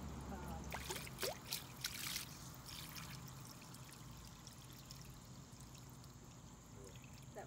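Water from an AC overflow pan is poured to flush a clogged Trane condensate drain line, a soft trickling pour heard close up with brief splashy bursts early on, then a steady low wash.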